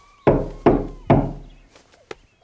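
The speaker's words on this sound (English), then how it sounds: "Don't just knock, man." Three loud, evenly spaced knocks on a wooden door ring out alone in a Sesame Street fairy-tale scene, each dying away quickly, followed by a couple of faint, brief taps.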